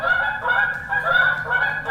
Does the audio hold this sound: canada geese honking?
yes